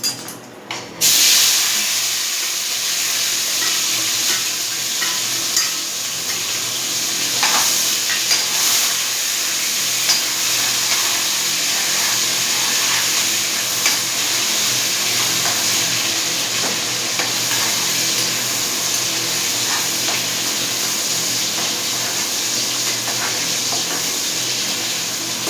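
Cumin and onion frying in oil in a pan give a loud, steady sizzle and hiss that holds without a break for the whole stretch, close up, with no talking over it.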